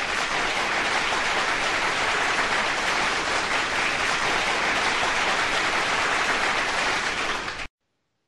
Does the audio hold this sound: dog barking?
no